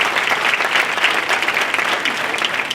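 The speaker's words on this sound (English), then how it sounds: "Let's give her a round of applause." Sustained audience applause after a speaker is introduced at a State of Black Wealth event, a dense steady wash of clapping from a crowd that stays loud and even throughout.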